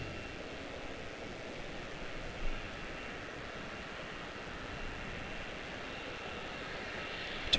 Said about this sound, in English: 2248 out of Cancun, taxiing in the background there